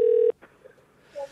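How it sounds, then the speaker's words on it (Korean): A phone line connects for a live call on a TV or radio show: a loud steady tone cuts off abruptly, then a short click and quiet line noise follow before a faint tone returns near the end. "한번 전화 연결 좀 부탁드리겠습니다"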